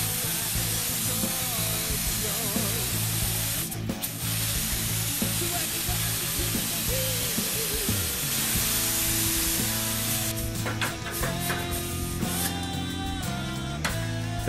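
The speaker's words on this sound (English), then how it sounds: "we're going to apply activator on it. And this is liquid activator of the gun." A spray gun hisses steadily as it applies liquid activator to a hydro-dipped guitar body, a continuous loud spray with clattering and handling noises, and a person talks briefly partway through.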